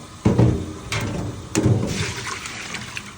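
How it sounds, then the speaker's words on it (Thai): Water runs and splashes in bursts while raw pork is washed, with a few louder gushing surges over a continuous wet flow, close and moderately loud. "ล้างหมูครับกำลังล้างหมู"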